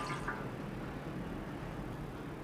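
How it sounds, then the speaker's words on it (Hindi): Water poured into a frying pan during stovetop cooking of a sweet vermicelli dish, a steady broadband rush and trickle lasting the whole moment without pause, with no talking. "अब मैं दोबारा पानी डालूँगी फ्राई पैन में।"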